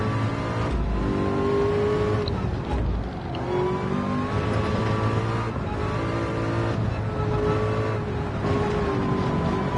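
Race car engines in the Le Mans VR video game, loud and continuous with rising and falling revs as a McLaren passes close by, the engine note swelling and sweeping away.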